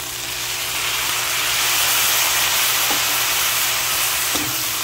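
Garlic and onion sizzle steadily in a pan for adobong pugita, with soy sauce added to the hot fry, giving a constant loud hiss and crackle with a couple of faint clinks.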